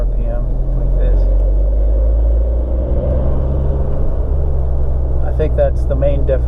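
A VW Golf R MK7 with a Southbend Stage 3 single mass flywheel lugs at low RPM under heavy throttle, a loud, steady, deep droning rumble that holds throughout, with brief mechanical rattles near the end.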